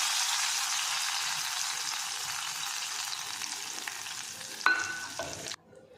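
Chicken for alli potta chicken frying in a tempering with curry leaves, a steady close sizzle with stirring scrapes, a sharper flare of sizzle near the end before it drops away.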